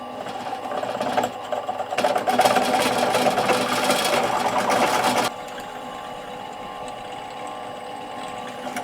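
Power drill boring out a hole with a 9mm bit during a camera ball head refurbishment, a steady close whir that rises into a harsher, louder cutting grind for a few seconds before easing back.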